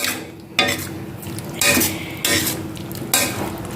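An egg stirred into spiced masala for egg pepper fry in a pan over low heat: four bursts of a spoon scraping and clinking against the metal, each trailing into a soft sizzle.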